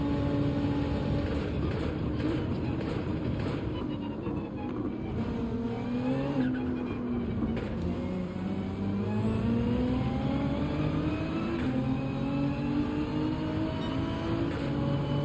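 A race car engine in Gran Turismo 7 at Spa-Francorchamps drones steadily under load. The pitch climbs and falls through gear changes, with a continuous, moderately loud hum throughout and no talk.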